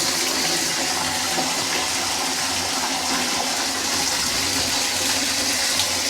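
Water gushes steadily into a bucket at a village home, a loud, continuous rushing flow that holds an even level for the whole stretch with no voices.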